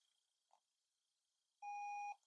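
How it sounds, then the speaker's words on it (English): Power-on beep from 3M Peltor Tactical Sport electronic hearing protection: a faint short blip, then one steady, loud half-second electronic tone in a quiet setting. "That beeping sound lets you know it's on."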